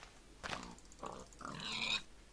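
Minecraft pigs give three short grunting oinks in a row, fairly quiet and close, with no talking over them.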